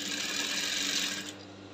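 Sewing machine stitching the back seam of a V-yoke cowl kaftan, a steady close mechanical whirr that runs continuously and eases off slightly near the end, with no talking.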